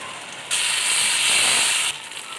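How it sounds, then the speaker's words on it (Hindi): Ground tomato paste hits a hot karahi pot for mutton karahi, giving one sustained loud sizzling hiss of about one and a half seconds that then drops back to a low background. "अब इसमें मैं टमाटर डालने लगी हूँ, ठीक है जी। टमाटर का मैंने ग्राइंड कर लिया"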